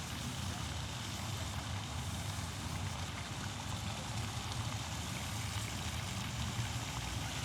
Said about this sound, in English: Got this water fountain behind me